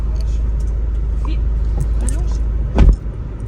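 Inside a Volkswagen Jetta 1.8 TSI driving on a highway with the air conditioning on, a constant loud low road and engine rumble is broken by a brief thump near the end.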